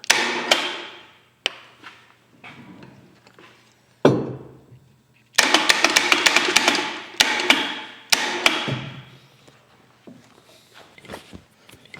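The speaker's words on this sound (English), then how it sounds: "Tightening up my 3-jaw chuck here." Metal clanks and ratcheting taps from tightening a 3-jaw scroll lathe chuck with a chuck key, coming in short irregular bursts with pauses between, fairly close and moderately loud with no talking.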